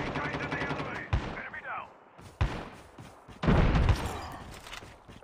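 Gunfire in Call of Duty Mobile: a rapid burst of shots followed by several sharp, loud single blasts with short gaps between them, while a voice talks underneath.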